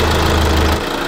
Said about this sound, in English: I'm gonna start the engine and just get all that oil to run through the system